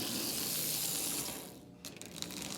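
A Marx double reduction toy train motor, freshly oiled, runs steadily with a dense whirring, ratcheting gear clatter that dips briefly before resuming close by, with no voices.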